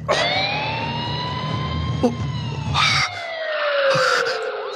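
A police car siren wails through the whole stretch, its rising and falling tones sweeping loudly over steady traffic rumble, with a brief burst of noise near the middle and another near the end.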